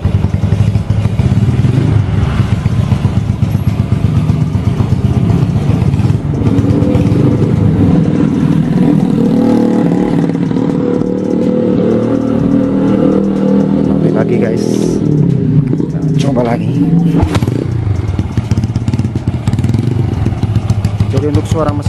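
Yamaha Vega ZR motorcycle with a 135cc bore-up engine and Daytona throttle, revving steadily and loudly up close with a throaty, slightly clattering exhaust; a voice speaks over it.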